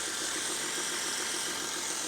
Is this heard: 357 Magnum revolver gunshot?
no